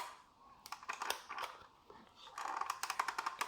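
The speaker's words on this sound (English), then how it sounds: "That's the sound of a mechanical arm moving across a variable resistor which" Faint scratchy, crackling scrapes come in irregular bursts as a mechanical arm drags across a variable resistor in a 1979 Mattel Vertibird toy, with short clicky pulses toward the end.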